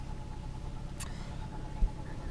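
A 2003 Nissan Fairlady Z Version-S with a six-speed gearbox idles steadily with a low, even engine hum, alone and fairly quiet, broken by a brief sharp click partway through.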